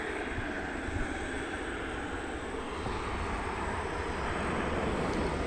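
An American Airlines Boeing 737-800 landing at DFW airport at night, inbound from Cincinnati, produces a continuous broadband jet roar that stays loud and steady, swelling slightly toward the end.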